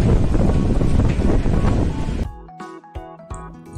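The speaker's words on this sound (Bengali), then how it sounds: "কেমন ঝোড়ো হাওয়া বইছে দেখেছেন" Strong, gusty wind roars loudly across the microphone at a railway station for about two seconds, then drops away to quieter, intermittent buffeting.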